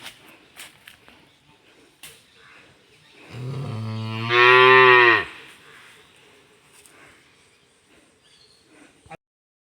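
A single drawn-out cow moo, deep and rising in pitch, lasting about two seconds and heard close by at a home farm, with quiet surroundings before and after.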